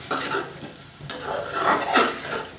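Onion stalks stir-fried in a pan over low heat, with a spatula scraping and clinking against the metal in a few uneven strokes over a soft, steady sizzle.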